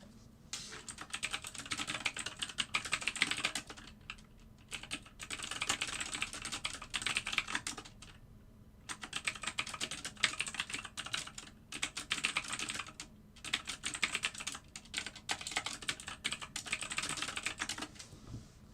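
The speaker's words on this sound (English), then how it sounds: "I'm typing in all capital letters." Rapid typing on a computer keyboard, close and steady in bursts of clacking keystrokes separated by short pauses, with no talk.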